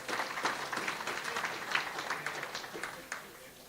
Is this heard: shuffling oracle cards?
no